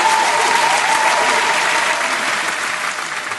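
Dense, continuous applause for an accordion player, a crowd clapping at full strength for about three seconds before easing slightly at the end.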